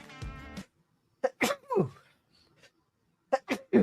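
A single sharp human sneeze, close and loud, followed by a couple of short exclamations from the same voice, then silence and more brief speech.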